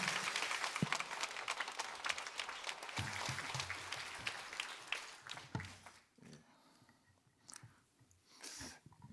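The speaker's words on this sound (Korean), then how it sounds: "우리 나오실 때 우리 박수로 환영하겠습니다." A church congregation at a Sunday morning service applauds to welcome a guest professor, with dense clapping for about six seconds before it thins out into scattered claps and quiet.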